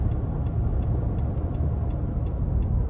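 A 2022 Nissan Titan Pro 4X pickup cruising at about 60 mph on a two-lane highway, with a steady broadband rush of wind and road noise filling the cabin, constant and unbroken, with no talking.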